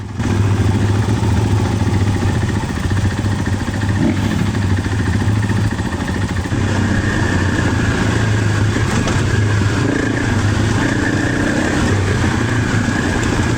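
A KTM 500 EXC dirt bike runs loud and close on an outback trail tour. Its steady, throaty engine drone carries through the whole stretch with slight changes in revs.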